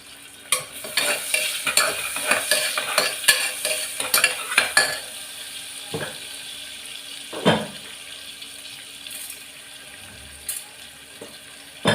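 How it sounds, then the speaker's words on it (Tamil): Chopped onions fry in a pan as they are stirred, a soft ongoing sizzle broken by frequent scraping clicks and clatters of the spoon against the pan, close and without speech. "இப்போ நான் கட் பண்ண வெங்காயம் போட்டுக்கிறேன்."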